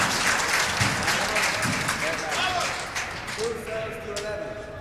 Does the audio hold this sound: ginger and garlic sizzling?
no